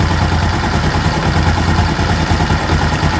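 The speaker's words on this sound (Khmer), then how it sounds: "បន្ទាប់ពីធ្វើការផ្លាស់ប្ដូរក៏ដូចជាជួសជុលរួចគឺសម្លេងម៉ាស៊ីនរបស់យើងគឺស្ងាត់ល្អ" A motorcycle engine runs after gearbox repair with genuine parts, a loud, even idle with a steady low rumble and no knocks, close and continuous.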